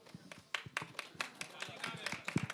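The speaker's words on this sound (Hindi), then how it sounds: "तालियां बजते रहनी चाहिए जब तक स्टेज पे आती हैं।" Scattered, fairly faint hand claps from an audience at the Son of Sardaar 2 trailer launch event, uneven single claps rather than a full ovation, mixed with voices talking over them.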